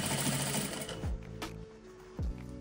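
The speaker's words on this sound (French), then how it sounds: "je vais repasser sur la couture et ça maintiendra les fils" Sewing machine going back over a circular seam to hold the threads, a dense rapid stitching run at the start, then short separate bursts of stitching.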